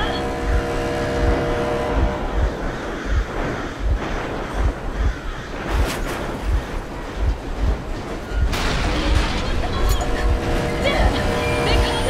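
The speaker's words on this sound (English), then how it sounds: "Stop the engine immediately!" A train engine running in Metro Exodus, a steady heavy rumble with rhythmic clickety-clack of wheels on rails, close and continuous, with a voice speaking over it.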